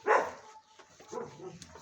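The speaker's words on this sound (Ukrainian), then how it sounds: "Тут оце сімейство підгавкує." Several dogs in a family pack bark and yip outdoors after rain, one loud close bark at the start, then softer scattered yelps and whines.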